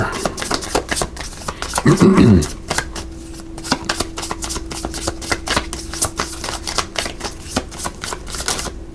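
Tarot cards riffle and tap in quick bursts, with one louder flurry early on, close and fairly crisp, over a low steady hum.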